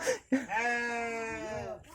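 A sheep bleats in a long, wavering, sustained cry lasting over a second, close and clear, following a brief bit of speech at the start.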